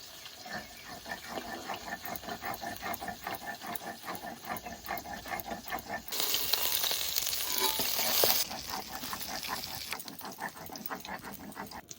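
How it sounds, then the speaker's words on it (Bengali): Koi fish fry lightly in hot oil in a village kitchen, a steady, moderate sizzle with faint bubbling that briefly swells louder before settling back down. "কই মাছ বেশি ভাজবো না হালকা ভেজে নেবো"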